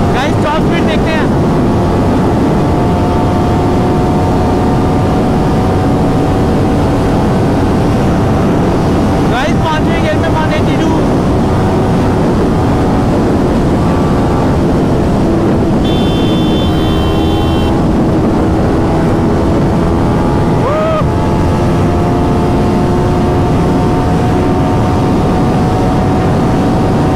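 A Kawasaki Ninja 400 motorcycle runs flat out at top speed, a loud, sustained engine drone with rising pitch under heavy wind buffeting.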